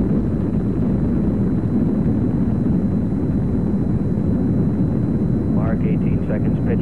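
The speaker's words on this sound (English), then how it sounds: "The Skylab lifting off the pad now, moving up." A Saturn rocket carrying Skylab 1 lifts off, its engines a heavy, low rumbling roar that runs steadily throughout, with a faint voice entering near the end.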